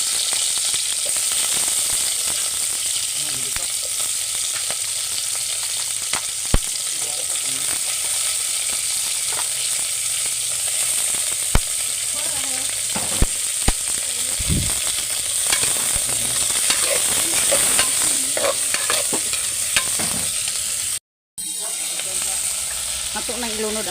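Fish and patola (sponge gourd) cooking in a pan, giving a loud, steady sizzle and hiss of frying with occasional stirring clatter, broken by a brief dropout near the end.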